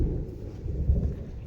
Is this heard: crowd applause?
no